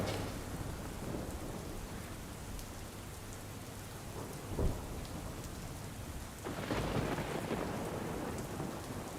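Heavy monsoon rain pours steadily in Palanpur, with a sharp crack of thunder midway and a deep rolling rumble building later. No voices are heard.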